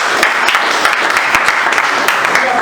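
A church congregation at a Full Gospel gathering in Togo bursts into sustained applause, a dense, loud wash of clapping filling the room throughout the short stretch without a break.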